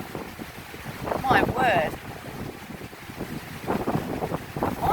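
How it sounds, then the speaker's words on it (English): Gusting wind and a squall buffet the microphone outdoors near water, a continuous roaring rumble with surging peaks, while someone speaks briefly over it. "I might just wait for 30 seconds until this gust and squall passes."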